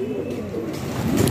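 Domestic pigeons coo steadily as they return to the loft and land, a continuous low warbling chorus close by with soft rustling underneath.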